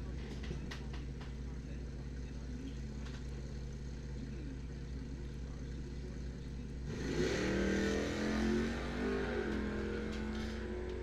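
Drag race launch at Coles County Dragway, 1969 Chevelle against 1987 Oldsmobile, engines rumbling at idle then surging loudly into a roaring departure down the track, with an announcer talking over the start.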